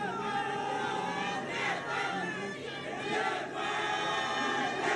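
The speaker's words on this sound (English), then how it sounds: "the crowd has been involved right throughout this fixture" A stadium crowd roars and chants at a women's international football friendly between Nepal and India, a dense, continuous wash of voices that swells and dips slightly throughout.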